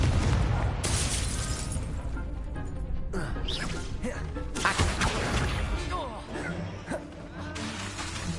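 Confringo fire-blast spell in Hogwarts Legacy, several sharp bursts and crackling impacts scattered across busy combat effects, loud and close.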